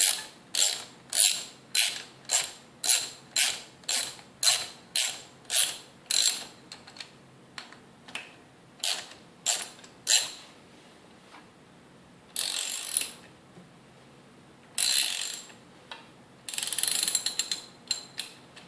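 Hand ratchet tightening 11 mm bolts on a 1995 Royal Enfield Bullet gearbox, a quick run of sharp, evenly spaced clicks followed by slower irregular clicking and a few longer ratcheting bursts, close and alone.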